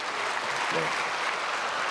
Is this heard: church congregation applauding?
yes